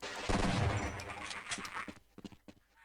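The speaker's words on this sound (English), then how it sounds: "I believe it's the same shotgun, and it does the thing. It shoots 2 shells at a time." A heavy shotgun in Half-Life fires a double-shell alternate-fire blast, a loud close burst followed by a few sharper clacks and rattles that fade out.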